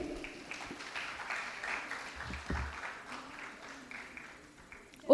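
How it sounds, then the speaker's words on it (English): An audience at a panel event on visual challenges and educating children gives a round of applause, a soft, steady patter of clapping heard from a distance in a large room. "Let us have a huge round of applause for all the panelists."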